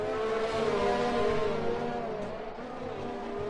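In the F1 2020 video game, a Formula 1 car accelerates out of a corner, a high, harmonic engine whine that climbs and then eases off slightly, clear and steady with no voices.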